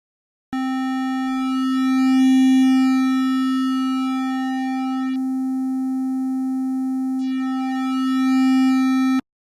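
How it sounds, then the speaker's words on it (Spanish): A synthesized tone pushed through heavy saturation and distortion, with the quieter part of the signal distorted, producing a steady, loud buzzing pitch with rich harmonics that holds for about nine seconds, swelling slightly, with no voices. "Aquí lo que estamos haciendo es distorsionar la parte de menor intensidad de la señal"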